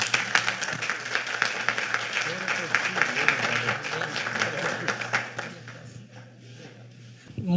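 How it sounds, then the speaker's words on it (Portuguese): An evening event audience claps loudly and steadily for about five seconds before the applause thins out and fades away. "com muito carinho, um grande aplauso."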